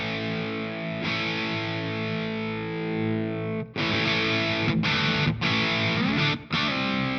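Electric guitar run through a Victory V1 Sheriff overdrive pedal at lower gain, giving a hard-rock crunch with rich harmonics. Sustained distorted chords ring loud and alone, then give way to several choppy strummed bursts broken by short gaps.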